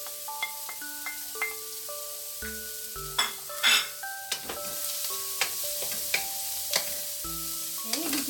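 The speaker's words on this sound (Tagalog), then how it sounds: "gigisa lang muna natin siya ng konti ka-French chef" Carrots and green beans sauté in a hot pan for pineapple fried rice with shrimp, giving a steady sizzle with scattered clinks and scrapes of a utensil against the pan, alongside tonal background music.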